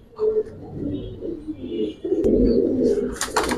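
Giribaz pigeons murmur and coo in a loft, a run of low rolling coos rising into a fuller burst near the middle, close by, with brief rustling toward the end.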